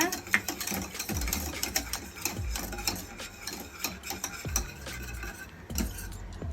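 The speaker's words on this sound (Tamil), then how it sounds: "அப்படியே நல்லா ஆட் பண்ணிவிட்டு மிக்ஸ் பண்ணி விட்டுட்டே இருங்க" A hot chocolate mixture being stirred in a pan, with repeated close scraping and clinking strokes of a spoon over a faint simmer, while a voice talks intermittently in the background.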